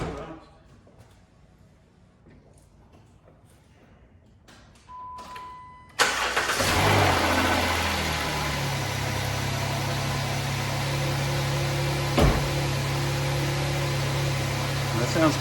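A 2011 Jeep Wrangler 3.8 engine, just repaired after cylinder misfires, cranks and fires abruptly, then settles into a loud, steady, even idle close by, after quiet clicking and handling noises beforehand.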